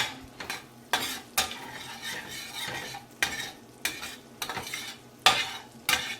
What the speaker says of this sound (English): All right, let's give this a stir.